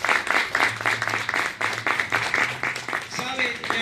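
Church congregation applauding during a worship service, dense clapping with voices mixed in throughout, a louder voice emerging near the end.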